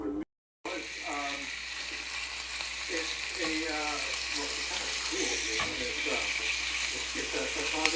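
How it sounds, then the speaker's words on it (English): Sausage links frying in avocado oil on a stovetop, a steady bright sizzle and crackle with occasional stirring scrapes, close and continuous throughout. "let's go ahead and cook up the sausage while I cut up my veggies and my onions. Here's some avocado oil. I'm going to get this fried up"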